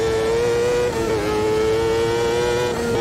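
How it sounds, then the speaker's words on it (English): A high-revving V8 engine of an old-school champ car in the racing game Automobilista 2 holds a loud, steady, near-constant high-pitched wail, with a slight dip and recovery in pitch as it shifts. "High revving V8."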